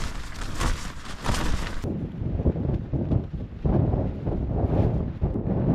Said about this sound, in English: You can see this wind.